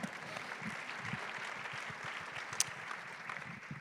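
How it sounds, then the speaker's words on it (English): An audience at a women-in-leadership panel discussion applauds, a fairly faint, even patter of many hands that holds steady throughout with little variation. "A round of applause for that."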